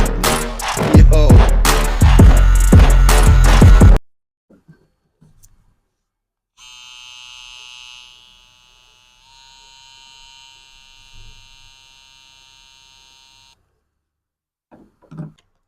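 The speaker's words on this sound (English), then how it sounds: "So it's a very small hair trimmer, I have to say, and you can charge it with USB-C" A small USB-C rechargeable BRDCLIP BRD 729 hair trimmer buzzes steadily and close for about seven seconds, its pitch shifting slightly midway, after a burst of music and a short near-silence.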